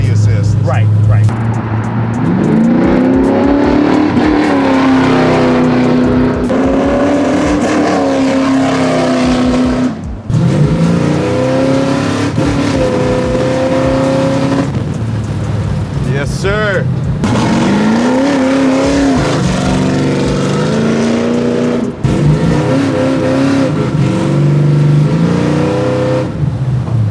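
An 800 hp 1966 Chevy Nova accelerates hard from a standing start, its loud engine roaring and climbing in pitch through repeated gear changes, heard close.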